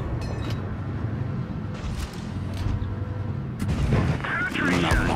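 Tank cannon shots in World of Tanks Blitz boom out in a few separate heavy blasts over a rumbling battle background, with a voice talking over the action.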